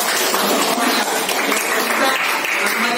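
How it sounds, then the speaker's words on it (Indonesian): Students in a classroom clap together in dense, sustained group applause that fills the whole stretch at steady loudness, with faint voices mixed in. "Oke, tepuk tangan kita semua ya."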